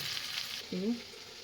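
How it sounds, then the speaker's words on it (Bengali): Vegetables fry in ghee in a non-aluminium kadai while cooking fried rice. A soft, close sizzle hisses steadily, with a brief murmur of voice partway through. "ঘিটা দিচ্ছি, ঘিটা সবজিটা দিয়ে একটু ভেজে নিই"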